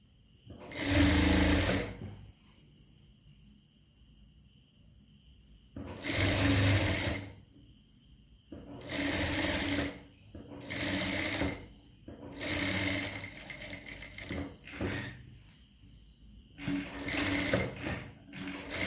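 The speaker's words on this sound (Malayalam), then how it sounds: "അടുത്ത സൈഡ് ഇതുപോലെ ഒന്ന് തയ്ച്ചെടുക്കുക." A sewing machine stitches a child's pant in repeated bursts, each run of rapid needle chatter lasting one to two seconds, separated by short quiet pauses, close and clear.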